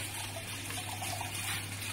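A thin stream of distillate runs steadily from a reflux still into a bucket, making a continuous close trickling and splashing sound over a low steady hum, with no talking.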